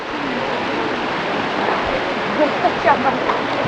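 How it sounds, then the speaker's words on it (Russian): Borjomi mineral water runs steadily from a tap in Georgia, a continuous rushing, splashing flow heard up close, with a few faint voices briefly rising over it near the end. "Вот так вот из крана течет минеральная вода боржоми"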